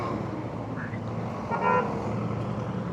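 Steady road traffic rumble from a Honda Navi scooter ride in Batangas, with a short car horn toot rising midway above the continuous engine and wind noise.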